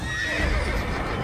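A horse in the Assassin's Creed video game whinnies loudly over clip-clopping hooves, a brief close burst of neighing with a steady trot underneath.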